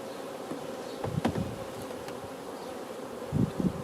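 A steady, close hum of bees buzzing around hive frames with wax foundation in a mini mating nuc, with a few louder individual bees droning past now and then.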